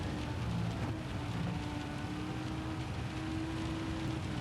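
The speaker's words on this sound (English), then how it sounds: "we're in the light rain at the moment, and we've got another band of heavy rain coming." Light rain falling during a Le Mans race in Gran Turismo 7, a dense steady hiss of rainfall mixed with a low engine drone and faint tonal hum, constant and loud with no speech.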